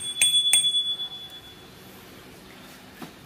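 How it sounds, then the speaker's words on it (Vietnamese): A bell on an XDS YX380 27.5-inch mountain bike rings twice in quick succession with bright metallic dings, followed by a faint, lingering ring-out in a quiet room. "Đấy, đây uh, nó còn một cái chuông"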